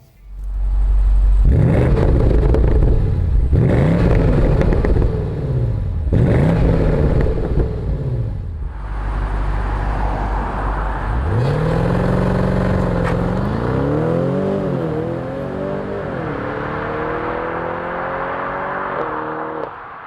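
A 2020 BMW M550i xDrive accelerating hard from a launch: loud engine roaring through three rising gear pulls with short breaks at each shift, then a long sustained climbing whine with fluctuating revs, close and alone.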